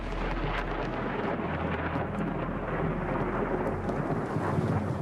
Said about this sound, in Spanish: Los truenos, rayos y relámpagos son fuerzas de la naturaleza experimentadas por todos nosotros.